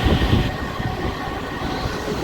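A passenger train rushes past Ontimitta station with a loud, steady broadband roar and rumble of wheels on track, continuous throughout without a break.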